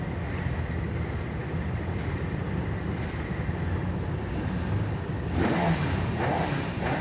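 A Ford Escort rally car idles and revs at the start line of a rally super special at Goodwood SpeedWeek, a low rumbling engine under wind noise that swells louder near the end.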